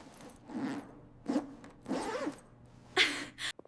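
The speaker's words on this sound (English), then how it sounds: "I zip up my dress." A dress zipper is pulled up in several short, scratchy zipping strokes, close and fairly quiet against a soft background hum.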